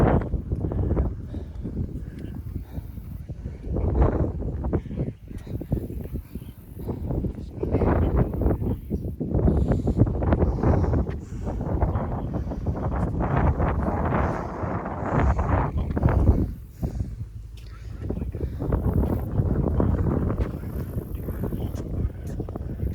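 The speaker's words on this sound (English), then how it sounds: "And a little windy." Steady gusty wind buffets the microphone on Last Stand Hill, a steep hillside at Little Bighorn, roaring loud and continuous for the whole stretch with brief dips, and no clear talk over it.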